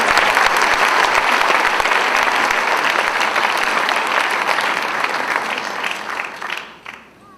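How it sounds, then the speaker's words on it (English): A crowd claps steadily and loudly through a ghatam arangetram (debut recital) following a traditional opening piece, the dense applause holding for several seconds before thinning and fading out at the end. "Let's give another big round of applause for"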